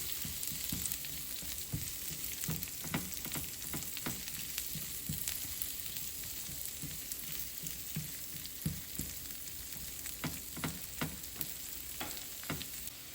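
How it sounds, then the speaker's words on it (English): Steady sizzling and crackling of peppers sautéing in a hot pan, with occasional scraping stirs, continuous and close, no voices. "we're sizzling a bit here, so it's time to put our peppers in there"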